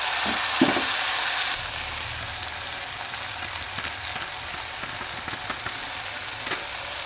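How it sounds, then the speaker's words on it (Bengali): Paste sizzling in a pan, a louder hiss at first that settles into a steady, softer frying sound with faint stirring taps. "মশলাটা কষানো হয়ে গেছে"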